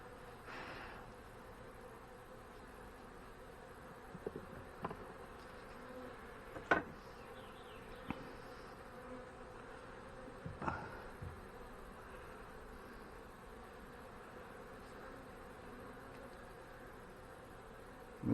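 Honey bees hum in a steady, quiet buzz around an open hive during a swarm-cell check, a low continuous drone broken by a few faint clicks and knocks of handling.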